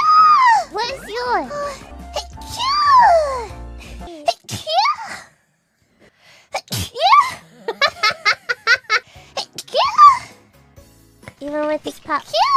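Repeated sneezes from a voice, mixed with high-pitched chatter and giggling, loud and close, with short bursts scattered among lively talk.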